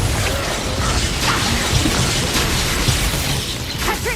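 A Bombarda spell explosion bursts in Hogwarts Legacy amid combat, a dense, loud crackling blast with rumbling low end and mechanical clatter that holds steadily throughout.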